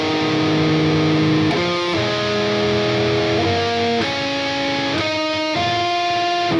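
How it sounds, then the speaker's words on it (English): Electric guitar played through heavy distortion, a scale of sustained notes stepping one after another, loud and buzzing, with no talk over it. "the more distortion you add, the worse it is"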